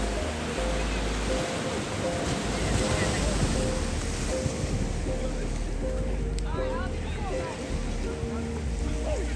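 Ocean waves breaking along Carolina Beach, a steady broad wash of surf mixed with wind buffeting the microphone, continuous and fairly loud throughout.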